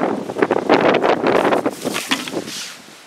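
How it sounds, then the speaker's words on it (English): Strong wind buffets the microphone outdoors beside a trailer built for hauling IBC containers, loud rumbling gusts surging and easing unevenly, with no speech. "it was windy out here, isn't it?"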